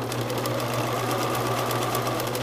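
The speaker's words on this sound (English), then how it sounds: "So I've just finished sewing all the way around here, single needle stitch" A sewing machine runs a single-needle stitch around a homemade cloth pad, giving a steady, close mechanical whir with a fast, even needle rhythm and no pauses.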